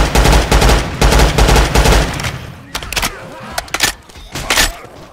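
A rifle fires in Left 4 Dead 2 in steady rapid bursts for the first couple of seconds, then in scattered single shots, loud and close, with little talk.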